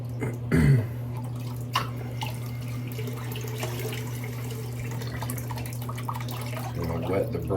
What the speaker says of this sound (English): I'm gonna wet the brush here.